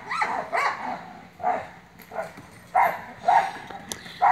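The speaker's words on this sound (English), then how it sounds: "feeding the dogs right now" Several dogs bark repeatedly at feeding time, a run of sharp yips and barks in uneven bursts, fairly close and loud, with no talking over them.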